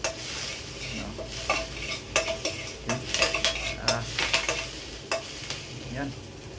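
Oysters cook in a pan alongside tomatoes over an outdoor fire, a constant close sizzle broken by repeated scraping and clinking of a utensil stirring against the metal, with no talk.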